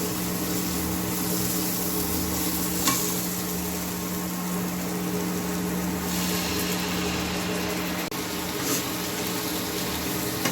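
Fried potatoes sizzle in a pan with spice masala while being stir-fried, giving a steady hissing crackle throughout, with faint occasional scraping and a constant hum underneath.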